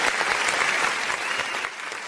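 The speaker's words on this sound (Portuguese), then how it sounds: "dá uma salva de palmas" A studio audience at a talk show breaks into a dense, steady round of applause for a birthday, filling the whole moment with no voices on top.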